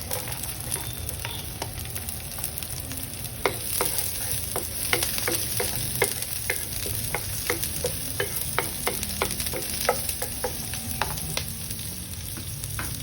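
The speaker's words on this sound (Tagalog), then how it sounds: "Sauteed garlic. And then sauteed onions." Garlic and onions sauté in a pan with a steady sizzle, while a utensil stirs and scrapes through them in frequent sharp clicks across the whole stretch, fairly close, with no voices.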